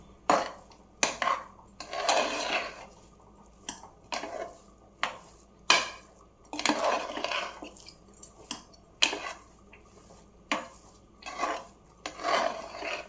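Millet pongal is stirred in a cooking pot, giving repeated scraping and clanking strokes of a utensil against metal in an irregular rhythm, close and fairly loud, with no talking.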